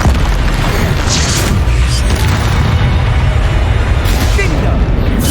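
The Incendio fire spell cast in Hogwarts Legacy: a loud, sustained booming roar of flame with crackling bursts layered on top, filling the whole stretch.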